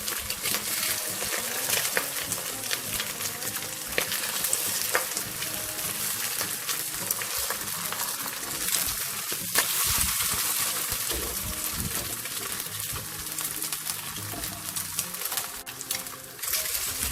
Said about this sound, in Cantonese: 煎一煎呢個蛋